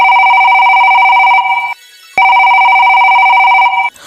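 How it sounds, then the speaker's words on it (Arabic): A cartoon telephone in a Mickey Mouse show rings loudly and close, two long electronic trills separated by a short pause, with no voices. "بعد كده اتصلت عمتي ميليندا"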